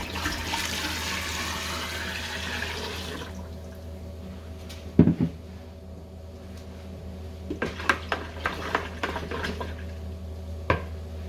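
Homemade alcohol in a container is watered down and mixed, a rushing pour of water at first, then quieter sloshing, clinks and scattered drips that come close by and without speech.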